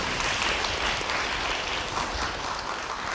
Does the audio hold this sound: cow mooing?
no